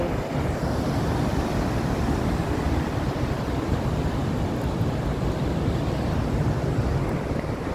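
Atlantic Ocean surf rolls in a steady, broad wash of breaking waves, loud and continuous, with some wind buffeting the microphone and no voices.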